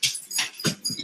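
A dog whimpers and yips softly in a few short, high, whiny bursts, faint and fairly close, with no one speaking.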